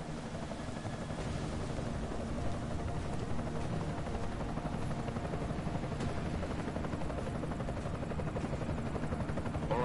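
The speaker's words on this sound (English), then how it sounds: "Enemy helo sighted." Enemy helicopter in Deus Ex: Mankind Divided, a steady, loud rotor thrum and engine roar that holds for the whole stretch, close and continuous with no talk.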